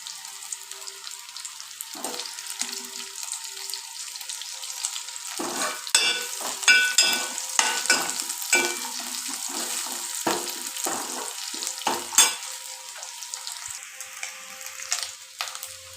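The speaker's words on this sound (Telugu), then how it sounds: "చూసారు కదండి చాలా అంటే చాలా బాగా వేగింది" Dried prawns fry in a pan for a gongura curry: a quiet sizzle broken by bursts of busy stirring, with ladle scrapes and clinks against the pan clustered through the middle, then easing back to a light fizz.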